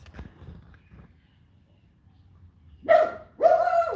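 Dogs bark loudly twice near the end, close by, after a mostly quiet stretch with faint low rumble and small knocks.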